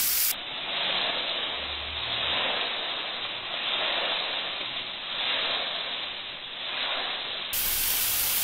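Chopped onions sautéing in a pan for prawn thokku, a steady soft sizzling hiss that swells and eases gently, with no talking.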